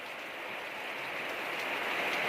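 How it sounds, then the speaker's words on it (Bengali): Heavy rain pours down over a village during a storm, a steady, even hiss of drops hitting surfaces with no voices over it. "দেখুন প্রচুর বৃষ্টি পড়ছে এদিকে"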